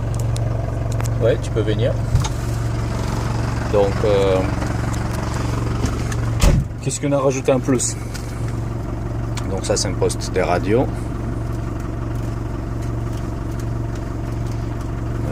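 A Ford Transit Chausson Welcome camper van's engine idles with a steady low hum throughout while people talk nearby over it.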